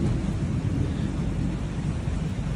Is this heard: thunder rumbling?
yes